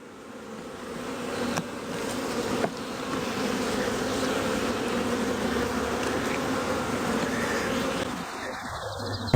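Honey bees buzz in a steady, dense drone around an open hive during queen rearing work, close and continuous, with a couple of brief knocks and a faint bird cooing somewhere in the background.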